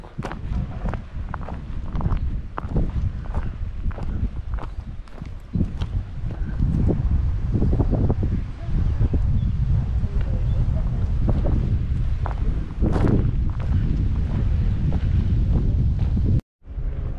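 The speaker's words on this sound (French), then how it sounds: "il y a un peu de vent." Steady low wind rumble buffets the microphone throughout, with faint intermittent clopping underneath and a brief dropout near the end.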